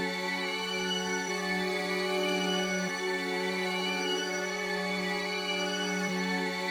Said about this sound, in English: Then I rearranged a bit of the sample and I reversed it and I pitched it up 1 semitone to make it sound like this.